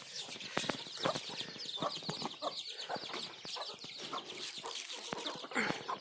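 Desi chickens, a black hen among them feeding her chicks, cluck and peck busily while being fed rice, a dense, close chatter of soft clucks and scratching with no one speaking.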